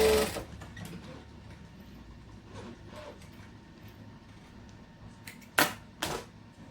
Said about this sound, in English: I'm going to chain stitch so I get left with less tails, because tails annoy me.